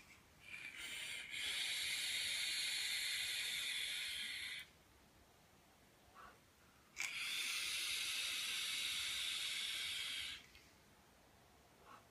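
Two long, loud hissing draws or exhales of vapour from an Eleaf iJust 2 sub-ohm e-cigarette, each lasting a few seconds with a quiet pause between.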